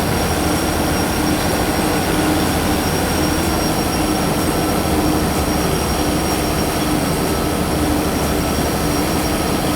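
A train rolls along in the Derail Valley railway simulation game, a dense, steady roar of wheels and engine with a faint high squeal, constant and loud throughout.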